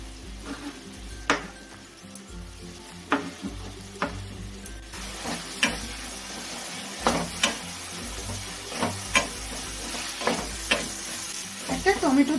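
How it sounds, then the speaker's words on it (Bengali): Kohlrabi sizzles in a pan with turmeric and a ginger and green chilli paste, a steady frying hiss broken by regular clinks and scrapes of a spoon stirring, fairly quiet throughout. "ভালো করে সাঁতলে নেব আমি।"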